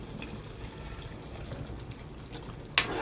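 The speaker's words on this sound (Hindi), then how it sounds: "पानी हम थोड़ा सा और डालेंगे" A little water is poured into a pan of paneer butter masala, a quiet low splash and simmer, ending in a short, sharper burst of pouring.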